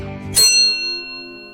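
A single gong strike used as a sound effect opens the piece, a bright metallic hit that rings on with long, slowly fading harmonic tones, heard alone and without talk.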